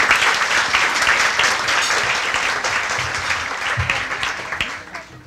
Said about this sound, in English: Please give Lissa another round of applause